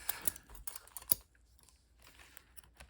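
A few quick, soft snips of scissors cutting off a yarn end on a crocheted circle, close and faint against a quiet room.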